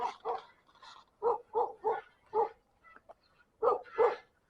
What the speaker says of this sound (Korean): 지나가다 보면은 개 짖는 소리도 가끔 많이 나오긴 합니다.